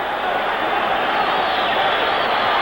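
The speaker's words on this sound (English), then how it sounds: "Listen to this crowd" A boxing arena crowd roars for a middleweight fight in the final round, loud, dense and unbroken cheering and whistling filling the space throughout.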